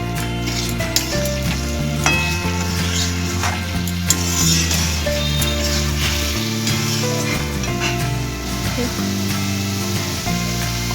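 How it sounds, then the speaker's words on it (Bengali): Homemade malai being stirred and fried in a pan for a pointed gourd malaikari cooked under banana leaf, giving a steady loud sizzle with repeated scraping stirs and a background music bed throughout. "এভাবে খুব ভালো করে আমি নেড়ে চেড়ে নিচ্ছি"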